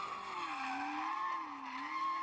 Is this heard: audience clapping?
no